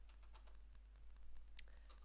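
Keystrokes on a Maltron one-handed keyboard, a handful of quiet, irregular clicks with hesitant gaps, heard close but faint over a steady low hum.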